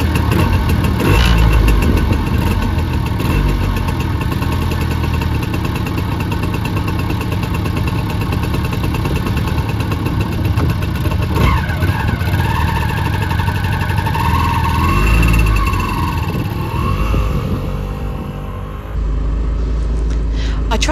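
A Peel P50 microcar engine starts and runs at a loud, steady idle rumble that carries through the whole stretch, with a person talking over it.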